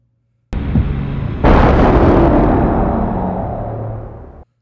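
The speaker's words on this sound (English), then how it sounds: "Oh yes, only the best games start with gunshots." Opening sequence of the GameCube shooter Space Raiders: a sudden loud blast, then after about a second a second heavier burst that rumbles and decays over several seconds, with no talking.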